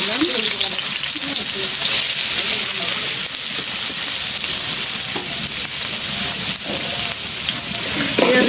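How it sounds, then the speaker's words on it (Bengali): Onion and potato fry in a hot kadai for a pangas fish curry, giving a loud, steady sizzle with stirring noises throughout and faint talk underneath. "আলু পেঁয়াজের সাথে ভাজা নেবো"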